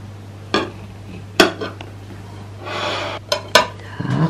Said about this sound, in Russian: Так, приступаем к нарезанию торта.